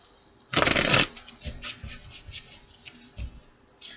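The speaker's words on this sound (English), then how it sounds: "One more shuffle." A loud riffle of playing cards being shuffled, followed by softer card flicks and taps.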